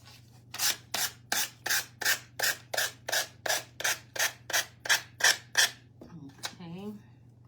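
Paper edges on a banner scrape under a finger sander in a run of about fourteen rhythmic, close rubbing strokes that grow slightly louder. A short burst of speech follows once the sanding stops.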